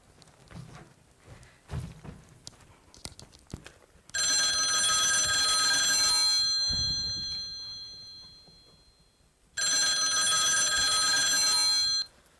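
A loud electronic telephone ring sounds in two long bursts separated by a pause, preceded by faint background rustling and thumps.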